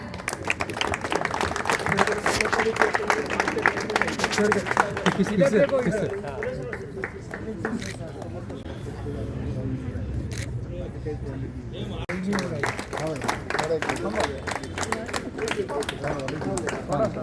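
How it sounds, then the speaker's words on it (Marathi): Clapping at a felicitation ceremony honoring an MLA, dense rapid applause with rapid camera shutter clicks, loud at first then quieter in the middle before picking up again, with people talking and chattering underneath. "सत्कार करणार आहेत जोरदार टाळ्या"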